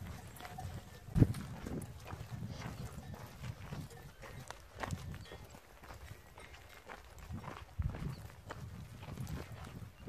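Horses' hooves clop at a steady walking pace on a hard surface in the mountains, fairly close, with a low rumble of background noise throughout.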